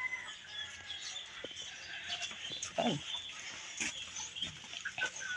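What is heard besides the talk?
chickens clucking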